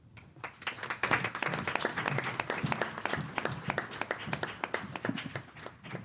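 Sustained applause from an audience for panelists at a health care forum on firearm injury prevention: steady, dense clapping from a moderate crowd, continuous and fairly close, with no talking.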